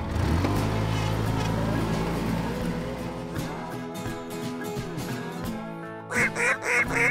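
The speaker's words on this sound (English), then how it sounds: "Ducks on the line." Ducks called in during a waterfowl hunt over decoys, with loud, continuous noise of engines or wind dominating the first half, then sharper bursts of quacking and honking breaking through near the end.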